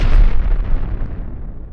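A loud, deep explosion in a video game, from a thrown chicken, that booms and then rumbles away over a second or two, with no voices.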